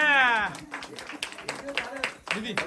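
Guests clap in a light, scattered patter during a Marathi wedding game, faint under close talking.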